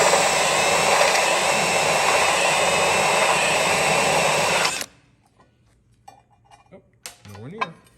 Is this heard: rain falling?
no